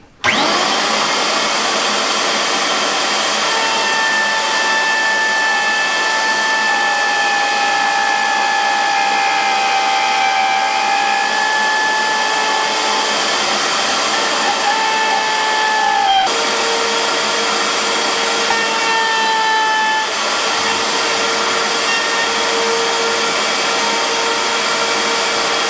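Router bit cutting a wooden workpiece, a loud, continuous high-pitched whine that runs steadily for the whole stretch with slight shifts in pitch as it cuts.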